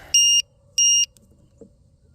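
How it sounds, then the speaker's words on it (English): Two loud electronic alarm-style beeps, each about a quarter second long with a short gap, sound near a Proboat Impulse 32 RC boat during testing, followed by quiet low rumble. "Something's beeping."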